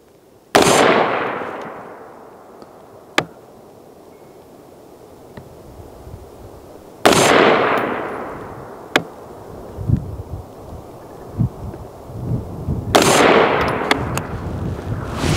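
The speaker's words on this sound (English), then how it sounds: "So OSS can, Gorilla 77. Let's shoot 3 rounds here." A DMR-type rifle fitted with an OSS suppressor fires three rounds of Gorilla 77 ammunition, spaced about six seconds apart. Each shot is a loud, sharp report followed by a long, fading tail. No one speaks.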